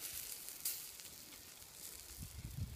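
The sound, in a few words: salmon in tin foil and burgers cooking on camp fire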